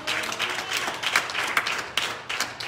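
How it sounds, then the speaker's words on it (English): A church congregation claps along during a sermon, a lively stretch of many hands with individual claps audible in uneven bursts, fairly close and loud, without talk. "You clap your hands unto the Lord"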